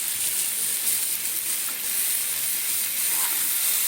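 Steady, loud, close sizzling and hissing as green chillies go into a potato curry frying in a pan, a continuous crackling hiss with no voices.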